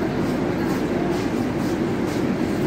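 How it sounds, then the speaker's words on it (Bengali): Duronto Express from Sealdah to Delhi standing at a railway station platform, a dense, steady hum and rumble of train and station noise, close and fairly loud. "ট্রেনে আমি উঠে গেছি, কিন্তু বাইরে এসে একটু দেখানোর জন্য আবার নামলাম ট্রেন থেকে"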